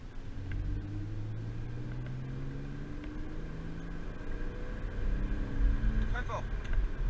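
A Porsche Cayman S with a 295 hp engine accelerates on a race track, its engine note rising steadily and growing louder toward the end, heard from inside the car.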